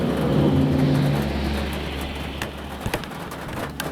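Heavy rain pours down in a steady, dense hiss, with a low rumble of passing traffic beneath and a few sharper drips near the end.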